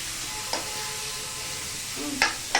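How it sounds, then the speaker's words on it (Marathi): Tomatoes and a little coriander are stirred in a pan over a low steady sizzle, with three or four distinct scraping strokes of the spoon standing out near the end. "टोमॅटो बरोबरच थोडीशी कोथिंबीर घालायची म्हणजे चव छान लागते आणि हे छान हलवून घ्यायचं"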